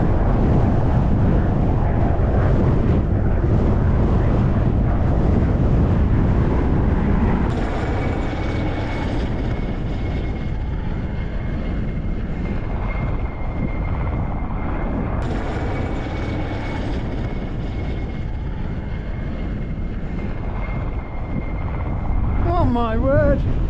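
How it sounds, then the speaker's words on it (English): A low-flying helicopter passes over the Lake District fells near Skiddaw and Carl Side, a loud, continuous engine and rotor roar that fades slightly midway, heard outdoors along with some wind. "they're actually sitting in the doorway of that helicopter"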